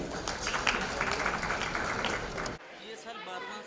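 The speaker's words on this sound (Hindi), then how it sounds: "थैंक यू हर्षवर्धन के लिए, जोरदार तालियां हो जाए प्लीज" An awards-show audience claps loudly and densely as a crowd for an honoree, the applause cutting off abruptly partway through and leaving a quieter room with faint murmuring.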